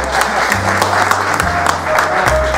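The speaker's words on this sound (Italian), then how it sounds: "Lo facciamo un applauso." Audience applause for an honored maestro at an Italian gathering, steady and fairly loud clapping throughout, with a low hum running underneath.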